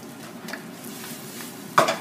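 A soft, steady sizzle of rice frying in a pan, with a brief scrape or clatter of a utensil near the end.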